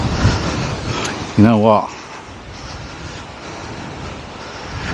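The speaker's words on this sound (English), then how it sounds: "That wind is strong though." Strong wind buffets the microphone on a golf course, a loud steady roar through the whole stretch, with someone speaking briefly over it.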